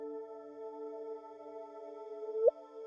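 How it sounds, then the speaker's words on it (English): A gravitational-wave chirp from colliding black holes, rendered as a steady faint hum of layered tones that ends in a brief rising sweep. "Just a little chirp."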